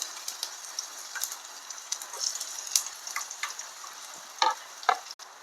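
Raw nuts crackle and fry in a pan with carrots being added, a light steady sizzle broken by scattered sharper pops and stirring clicks, close and moderately quiet.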